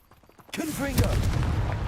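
A Confringo fire spell blasts in Hogwarts Legacy, a sudden loud burst that erupts after near-silence and rolls on with a crackling, rumbling tail and a second surge of impact about half a second later.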